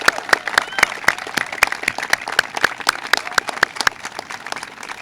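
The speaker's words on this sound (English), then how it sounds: "can we give a big round of applause to the incredible student leaders?" Sparse, distinct clapping at an outdoor student-organized March for Our Lives rally in Union-Springfield, individual claps spaced out rather than a dense ovation, moderately near with faint crowd murmur beneath.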